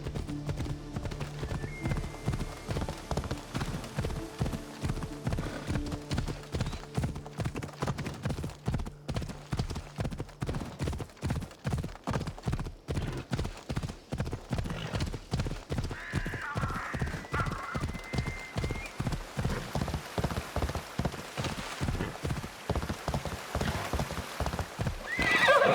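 Horse galloping in Assassin's Creed Odyssey, a fast steady clip-clop of hooves close up, continuous throughout with a brief whinny partway through.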